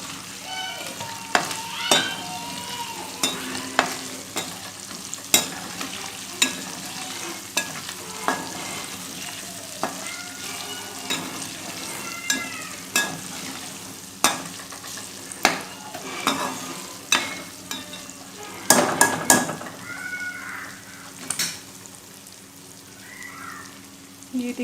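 Meat for Chinese fried rice sizzles steadily in a pot while a spoon scrapes and stirs it in repeated knocks, with a louder cluster of clatter near the end.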